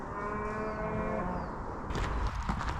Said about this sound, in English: see them? They're cows.